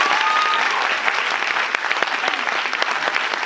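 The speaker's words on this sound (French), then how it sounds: "Je pense qu'on peut applaudir toute notre équipe digitale qui bosse sur le film pour la promotion." Dense, lively applause from a cinema audience at a film premiere, continuous clapping with a few crisp close claps and faint crowd voices underneath.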